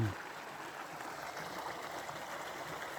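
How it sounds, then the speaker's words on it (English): A waterfall on a partly frozen creek rushes as a steady, even broadband hiss at moderate distance, with no pauses or changes throughout. "look at that waterfall"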